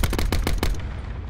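Rapid burst of video game gunfire, about six close, loud shots in quick succession, then a short fading tail.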